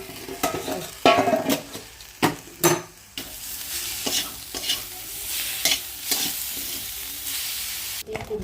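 An oil-coated vegetable roasts beside a tomato until well charred, with a steady close sizzle broken by several louder scraping, stirring bursts and no talking.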